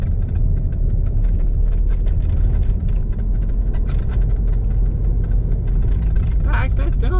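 BMW E46 CSL convertible with SMG gearbox and a tuned setup pulling away under steady throttle, heard from the cabin as a continuous low engine drone and rumble that holds steady throughout, with some faint clicks and rattles over the top.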